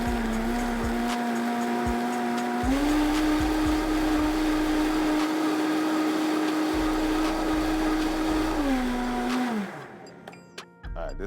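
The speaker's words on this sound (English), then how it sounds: "we're gonna do this blending" A blender blending tomatoes whirs steadily at close range, its motor pitch shifting up and holding before winding down and stopping.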